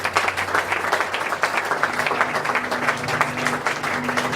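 A church congregation bursts into sustained applause and cheering for the Lord, a dense steady wash of many hands clapping throughout at even loudness.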